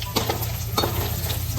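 Onions hit hot oil that already holds fried chillies, giving a close, steady sizzle with a few scraping stirs, no voices.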